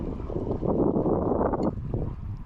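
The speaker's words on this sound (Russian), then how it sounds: "Сейчас ветер, ну, почти мне в лицо." Headwind while lure fishing buffets the microphone with a low, rumbling roar, steady and close throughout.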